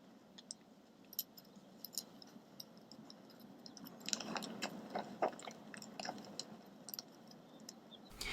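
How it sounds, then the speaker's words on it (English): Reindeer knees click as the animals walk, heard as faint, scattered sharp ticks in uneven rhythm over a low background hiss, quiet and somewhat distant. "Some reindeer even have knees that click when they walk."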